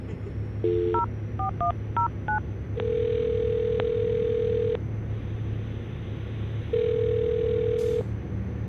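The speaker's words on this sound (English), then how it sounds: "I'll dial her phone number right now" A telephone call is dialed with a quick run of touch-tone beeps, then long steady ringback tones with a pause between them, loud and clear over a low background hum.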